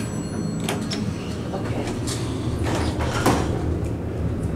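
A Westinghouse hydraulic elevator door slides along its track inside a Hilton building in New Orleans, a steady rolling rumble with a brief clunk, set against a continuous low hum and faint background chatter.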